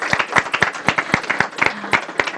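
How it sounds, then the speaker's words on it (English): A small audience at an evening trade discussion on the KORUS free trade agreement claps for speaker Tami Overby; distinct, close individual claps from a handful of people in an uneven rhythm, loud and alone. "Please give her a big round of applause."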